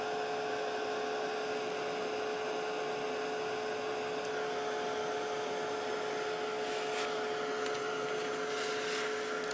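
A heat tool blows steadily and loudly close by while drying mist spray on thin paper, a constant whirring hum with a fixed whine that holds for the full stretch, with no talking.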